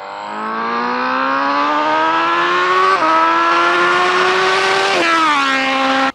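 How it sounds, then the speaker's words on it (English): A high-revving 2020 Honda Fireblade SP superbike engine screams loudly and continuously, its pitch climbing through the gears with brief dips at each shift. "So I'm going to give the Honda Fireblade on sound."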